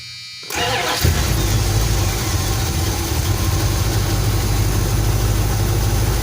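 A carbureted Dodge engine cranks briefly, then catches and settles into a steady, loud idle close by, with no talking over it.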